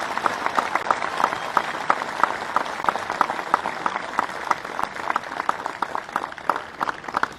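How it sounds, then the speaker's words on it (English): An audience at a 2020 high school graduation ceremony applauds steadily throughout, a dense, sustained clapping heard from within the crowd. "Please join me again in a round of applause for Miss Barb Hagan."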